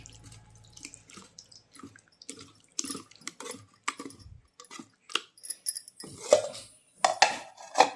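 Tamarind water trickles and drips through a strainer, with light metallic clinks of utensils against a bowl, fairly quiet and close.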